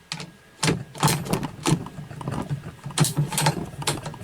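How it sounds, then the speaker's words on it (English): Bolt of a Thompson Center Compass .308 rifle with a smooth bolt being cycled several times, giving close, crisp metallic clacks and sliding clicks in an uneven rhythm with no voices. "This is a smooth bolt instead of a spiral bolt."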